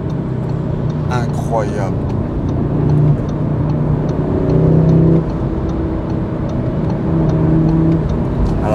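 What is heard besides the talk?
car accelerating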